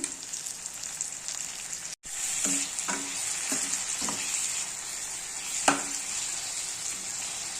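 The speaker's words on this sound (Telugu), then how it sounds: "ఇలా కొంచెం బీన్స్ ముక్కలు కూడా వేసుకుంటున్నాను. ఫ్రై అయ్యాక కొంచెం టమాటోస్ కూడా వేసుకోవాలి." Bean pieces frying in a pan for upma: a bright, continuous sizzle with a run of spatula scrapes and taps against the pan, close up and steady, after one brief cut near the start, and no talking.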